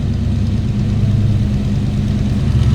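A 350 V8 in a 1988 Chevrolet K5 Blazer 4x4 idles with a loud, steady low rumble and a slightly uneven beat, close by and with no talking.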